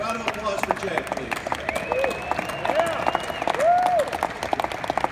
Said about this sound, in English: Round of applause for Jay, please.